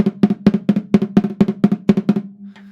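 Rapid, over-pinched double strokes on a drum in a steady, slightly uneven pattern, about a dozen hits, loud and near, with no talking.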